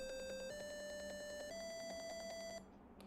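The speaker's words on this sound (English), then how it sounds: "While this tone is playing, it's waiting 1 second to go to the next tone." Electronic alarm tone from a simulated motion detection alarm built on an SSTuino II board: a steady run of repeated beeps that steps up in pitch twice, then cuts off abruptly near the end, loud and alone.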